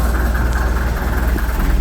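An Austin Western 99H road grader's diesel engine idles steadily just after start-up, a loud, even low rumble that holds without a break.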